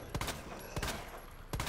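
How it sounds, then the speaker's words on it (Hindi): Three sharp bursts of gunfire in Resident Evil 2 Remake, evenly spaced about seven-tenths of a second apart, crisp and loud over a faint background. "इसे पेट में गोलियां मारी"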